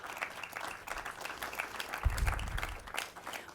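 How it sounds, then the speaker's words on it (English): An outdoor audience at a groundbreaking ceremony for the 8.5 Square Mile Area project applauds. The crowd's clapping is moderate and steady, with a low rumble of wind or handling noise partway through. "I think that deserves a round of applause to everyone here that's been a part of that"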